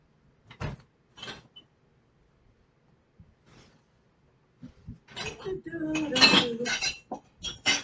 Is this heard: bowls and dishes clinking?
yes